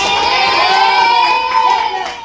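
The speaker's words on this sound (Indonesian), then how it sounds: "Tepuk tangan dulu buat teman yang berani menjawab." Schoolchildren at an elementary school education session cheer and shout in a loud, sustained burst of voices and clapping for a classmate who answered, fading slightly at the end.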